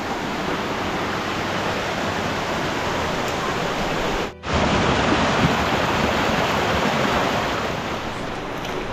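Steady, loud rushing of a forest waterfall in Mae Ramat, Tak, Thailand, heard close by where the water drops, briefly cut off for a moment midway, then continuing unchanged.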